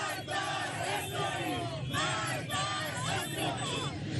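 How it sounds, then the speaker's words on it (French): A large crowd celebrating in the streets of Tehran after Iranian strikes on Israel, loud continuous chanting and shouting voices rising in waves, dense and close throughout. "la foule célèbre la riposte"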